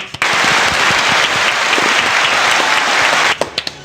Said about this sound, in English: Please, everyone, give yourself a round of applause.